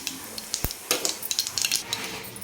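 Cumin seeds crackle in about one and a half ladles of hot oil alongside already-popped mustard seeds in a kadhai, giving a steady broadband sizzle with a sharp close clink and scattered spoon scrapes.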